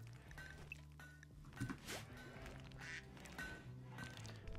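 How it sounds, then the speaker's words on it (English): A duck in the RimWorld video game gives several faint, separate quacks over quiet game sounds. "quack."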